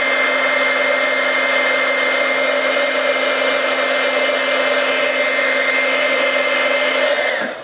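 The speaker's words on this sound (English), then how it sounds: "now we're going to heat emboss the vellum" A heat tool blows hot air onto embossing powder on vellum for a papercraft card, a loud, steady whirring drone that runs unbroken until it cuts off at the end.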